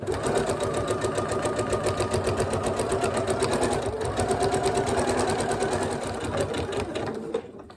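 A sewing machine stitches a cushion in one continuous close run, its rapid needle chatter steady and even until it slows and stops at the end.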